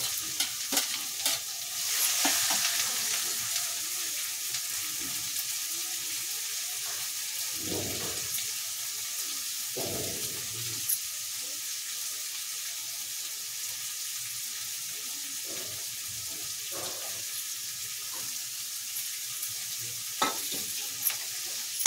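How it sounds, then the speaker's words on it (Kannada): Carrots, capsicum, beans and onion stir-fry in hot oil for vegetable fried rice, a steady sizzle broken by spatula scrapes and stirring knocks. Brief bursts of water from a tap or sink sound now and then; no one speaks. "ಇವಾಗ ಅಲ್ಲಿ ತನಕ ಫ್ರೈ ಮಾಡ್ಕೊಳ್ಳಿ ಎಣ್ಣೆಯಲ್ಲಿ."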